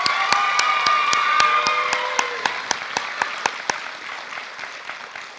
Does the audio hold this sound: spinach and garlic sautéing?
no